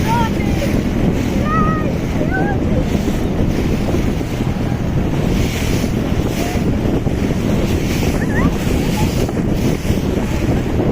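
Strong, steady wind of force 4 to 5 roars across the microphone with water sloshing underneath, a constant rushing wash out on the sea, and a few faint high calls.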